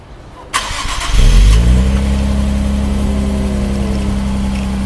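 Nissan Z sports car engine cranks over and fires, rising to a loud rev before settling into a smooth, steady idle that holds nearby to the end, with no talk.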